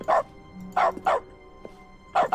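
Cartoonish dog barks from the dog mode in the video game The Stanley Parable Ultra Deluxe, four short sharp yaps in two quick pairs, clear and close with no talking over them.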